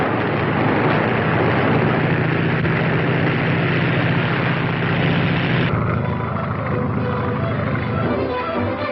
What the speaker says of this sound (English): There's a plane coming and low.